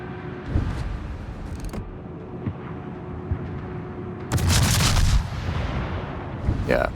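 Naval guns fire in the World of Warships video game as low-tier cruisers and battleships exchange shots, several booming reports spread over a few seconds with a longer roaring salvo near the end, loud against a steady background rumble.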